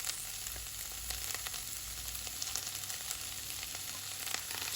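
Carrot and the white parts of spring onion stir-fried quickly over high heat for chicken chow mein, giving a continuous moderate sizzle with light scraping and tossing clicks scattered through it.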